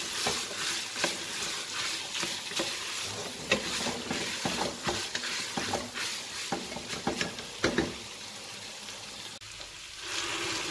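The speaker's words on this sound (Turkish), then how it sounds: "Birkaç dakika nohutumla birlikte etimi kavuruyorum." Meat and chickpeas sautéing in a pressure cooker, with a steady sizzle and repeated scraping, stirring knocks of a utensil against the pot, close and fairly loud throughout.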